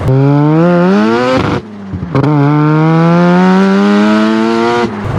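Mazda RX-7 FD rotary engine revving up in two long, loud, close pulls, each rising steadily in pitch before a brief drop off the throttle between them, with no voices.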